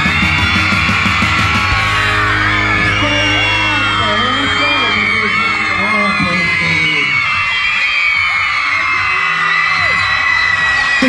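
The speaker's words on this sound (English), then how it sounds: "We're looking for the loudest screaming kids." A large crowd of kids screams and whoops loudly at an X Games event, a sustained, dense wall of yelling that swells and carries on without a break.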